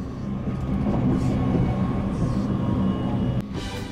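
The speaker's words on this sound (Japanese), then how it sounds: "常にモーターの音が響いて頑張っているなという感じがします" Hitachi limited express train running on the Joban Line, its traction motor and wheels giving a steady continuous rumble with a faint whine throughout, loud and close from inside the carriage.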